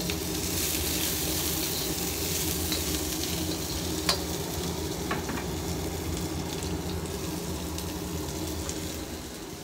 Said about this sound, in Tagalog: Ginigisa na natin yung munggo natin.